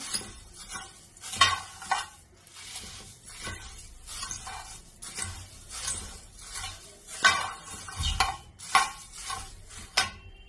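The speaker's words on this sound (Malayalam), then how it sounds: "നന്നായി മുരിഞ്ഞ് വരും. പൊരി ഇവിടെ മുരിയട്ടെ." Puffed rice roasting in a pan, stirred with a utensil: repeated rhythmic scraping and rustling bursts against the metal, close and fairly loud, with a light sizzle underneath and no talking.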